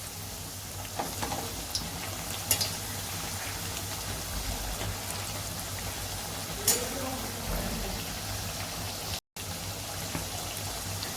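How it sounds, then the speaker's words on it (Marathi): Taro leaf rolls (aluvadi) fry in hot oil with a steady, dense sizzle, punctuated by a few brief clicks and crackles, close and continuous for the full duration. "आता आपण दुसरी बाजू ह्याची चांगली तळून घ्यायची"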